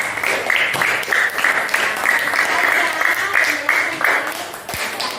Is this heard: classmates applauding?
yes